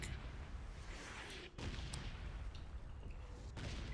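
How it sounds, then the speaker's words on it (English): Airstrike bombardment in the video game PUBG: a dense, continuous roar of heavy rumbling blasts and crackling gunfire, with sharp breaks and renewed bursts, loud and steady throughout with no talk. "Airstrike."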